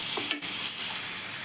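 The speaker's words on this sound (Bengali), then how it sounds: "লোট্টে মাছটা কেমন ভাজা ভাজা করছি, একদম শুকনো শুকনো" Lotte, or Bombay duck, fish is dry-fried in a pan with onion and crushed garlic, giving a soft, steady sizzle with a brief scrape of stirring early on.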